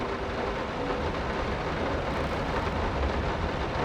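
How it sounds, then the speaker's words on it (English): Steady, heavy video game rainfall in Layers of Fear (2023) hisses loudly and evenly throughout, a dense wash of drops with no voices over it. "The rain is really loud."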